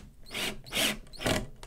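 Power drill boring pilot holes into wood while building a puppet stand, three short whirring bursts separated by brief pauses, close and fairly loud with no talking.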